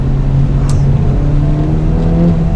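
A 2025 Acura Integra Type S engine blips and revs on a downshift while driving, heard from inside the cabin as a steady, loud engine drone with a brief rise in pitch.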